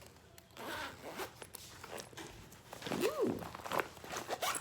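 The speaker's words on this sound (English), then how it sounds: "There's a zipper on this side." A zipper on a summer lunch bag pulled open in a few quick rasping strokes, close and fairly quiet, with a short spoken exclamation partway through.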